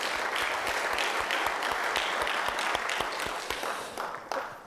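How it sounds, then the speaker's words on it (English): Sustained audience applause for Mark Burns and Sport Techie at a TPG Sports Group event, dense clapping from a sizable crowd holding steady before tapering off slightly near the end. "Give Mark Burns and Sport Techie a round of applause,"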